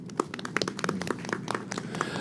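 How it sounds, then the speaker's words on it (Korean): Audience applause at a Korean cultural policy forum, a brisk, fairly small crowd clapping with distinct individual claps, close and continuous for a couple of seconds, no talk over it. "큰 박수 부탁드립니다"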